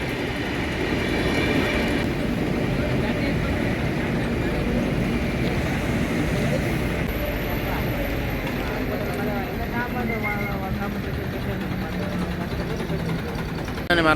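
Venkatadri Express train 12798 rumbles steadily alongside, a loud continuous rolling roar of wheels and carriages with a faint tonal whine rising late, masking any nearby voices.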